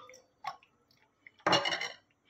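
Water is poured into a cracked-open semolina golgappa filled with potato, a short splashy liquid burst after a faint clink, close and alone in a quiet kitchen.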